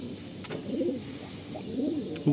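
Andhra breed pigeons coo in a loft, several soft rolling calls overlapping close by, with a brief sharp knock at the very end.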